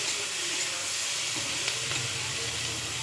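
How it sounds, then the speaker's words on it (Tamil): Ivy gourd frying in oil in a pan, a steady, dense sizzle and hiss that holds evenly throughout without breaks, close by and alone. "எண்ணெய் ஊற்றி வறுத்துடலாம்."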